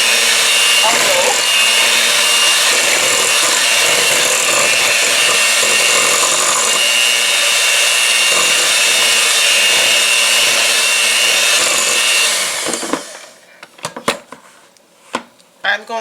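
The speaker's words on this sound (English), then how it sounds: "So I'm going to start mixing it, and I'm going to mix it on low." An electric mixer on low speed beats chocolate cake batter, making a loud, steady whirring drone close by for about twelve seconds before cutting off, followed by a few scattered knocks.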